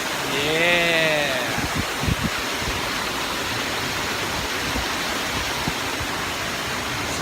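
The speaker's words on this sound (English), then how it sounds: "I'll show you the waterfall again." A waterfall roars as a broad, steady rush of falling water close by, with a brief whistle-like tone early on and occasional bumps of handling noise over the continuous wash.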